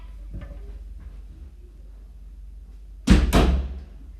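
A door pulled shut indoors lands with a loud, close double thud after a few seconds of quiet room noise and faint handling sounds.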